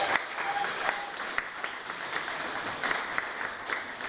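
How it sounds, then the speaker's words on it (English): An audience applauds candidates at a university students' union election results night, steady dense clapping filling the room at moderate level, a few sharper claps and cheers standing out over the continuous wash. "So another round of applause to all our candidates, please."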